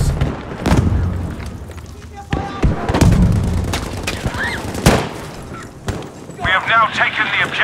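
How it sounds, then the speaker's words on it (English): A Battlefield V battle has a grenade explosion among repeated sharp gunshots and booming impacts spread across the moment, while soldiers' voices call out over the gunfire. "Heads up, grenade out."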